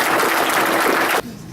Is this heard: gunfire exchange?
no